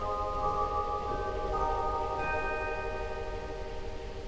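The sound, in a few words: chrysoglot stop on the Wurlitzer theatre organ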